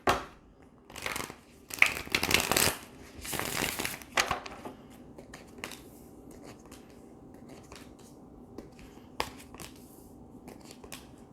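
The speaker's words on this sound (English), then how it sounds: "So I'm gonna shuffle 2 more times and then deal the cards out" Several bursts of tarot cards being riffled and shuffled close up in the first few seconds, then quiet with a few faint taps and rustles.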